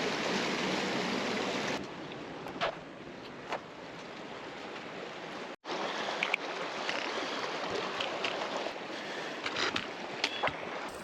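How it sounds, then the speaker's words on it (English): A small mountain river on the Aconcagua trail, around 13,800 feet, rushes steadily nearby as broadband water noise, with a brief dropout midway and scattered clicks and knocks over the flow. "We gotta cross this little river right now."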